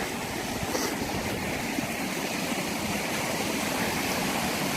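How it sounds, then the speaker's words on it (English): A waterfall roars steadily at close range, a dense, continuous rush of falling water heard from the bottom of the falls, with no other sounds standing out. "show you the waterfall from the bottom"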